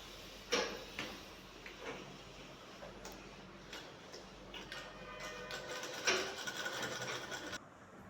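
A sewing machine stitching a shirt pocket runs in short bursts, with a rattling, ticking needle rhythm broken by small handling clicks, close and moderately loud.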